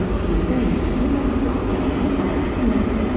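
A train at Amsterdam Central station rumbles on steadily with a low, continuous roar and faint rail noise, close and even in level throughout, with no voices.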